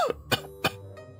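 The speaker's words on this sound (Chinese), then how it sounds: "虚弱地咳嗽两声" Two or three weak, breathy coughs sound close and alone, each brief and separated by short pauses, with a faint tonal hum underneath.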